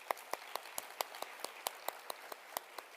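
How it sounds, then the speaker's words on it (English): A single pair of hands claps slowly and steadily at a scientific society's award announcement, about six claps a second. The claps are faint and distant in a quiet room, with no talk. "let's give a round of applause"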